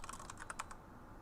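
Quick clicks on a computer keyboard, about eight keystrokes in a fast burst that then stops, quiet and close with low background hum.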